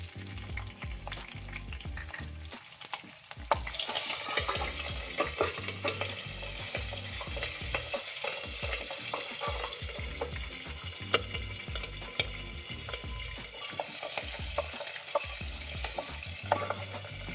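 Green chillies fry in oil in a pan over high flame for capsicum rice, giving a continuous close, dense sizzle and crackle broken by steady stirring and scraping.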